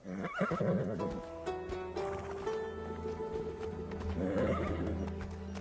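A horse whinnies loudly and close, its neigh rising and falling in harmonic bands, with hooves clip-clopping and a tonal film score running underneath.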